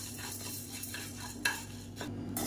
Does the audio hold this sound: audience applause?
no